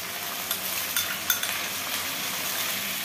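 Onion paste, two large spoonfuls, hitting hot oil in a pan for a dried-fish curry with potato and eggplant, sizzling steadily and loudly, with a few soft spoon scrapes and taps over the continuous frying hiss.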